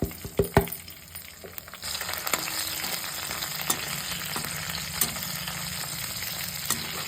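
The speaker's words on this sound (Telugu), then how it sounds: "నేను ముందుగా తాలింపు వేసుకుంటున్నానండి అదండి ఆవాలు పచ్చిమిర్చి ఎండుమిర్చి అలాగే కరివేపాకు వేసుకుంటున్నానండి" Mustard seeds, green chillies, dry chillies and curry leaves fry in hot oil for a tempering, opening with a few sharp clatters as they drop in, then a close, steady sizzle with scattered pops.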